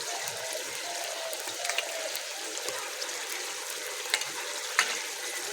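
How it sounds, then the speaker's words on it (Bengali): Rohu fish pieces fry in mustard sauce, a soft continuous sizzle and bubbling with a few light clicks of a spatula as the pieces are turned, close and fairly quiet. "একটু উল্টিয়ে দিচ্ছি মাছগুলো"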